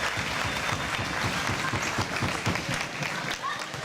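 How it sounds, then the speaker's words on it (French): Audience applause at a French community gathering, a dense steady patter of many hands clapping close by for nearly four seconds, with a voice briefly audible underneath. "Je crois qu'on peut l'applaudir."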